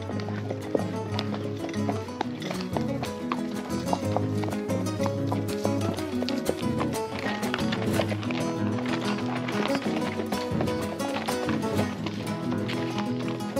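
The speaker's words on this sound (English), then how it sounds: "There goes Sam with his horse." A horse ridden along a back road during a gaucho horse trek in the Córdoba sierras, with hooves clip-clopping in a brisk, steady rhythm, close and clear throughout, alongside continuous tonal sound.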